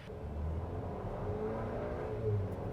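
2025 Buick Enclave engine droning steadily under load as the SUV accelerates, a low continuous hum heard from inside the quiet cabin with no talking.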